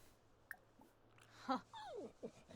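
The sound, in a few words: dog whimpering in the video game The Sims 4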